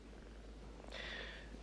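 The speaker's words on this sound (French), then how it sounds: "J'adore les chats." A cat purrs softly and low, faint at first and then a little fuller, heard on its own with no voices.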